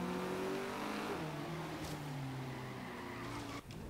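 Race car from Forza Horizon 3, a light street racer, with a steady engine drone whose pitch glides up and down through gear changes, plus tire skidding, ending with a brief sharp dip.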